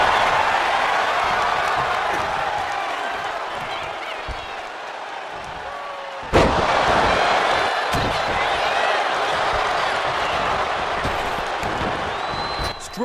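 In the WWE 2K24 video game, a wrestling arena crowd roars in a dense, sustained wash of cheering and noise, with a sharp slam-like impact midway and the crowd surging again afterward.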